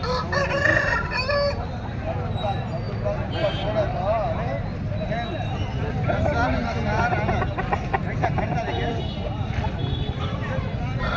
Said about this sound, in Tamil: இவ்வளோ சண்டை சேவலைங்க நல்லா தரத்தில் நின்றுருக்குங்க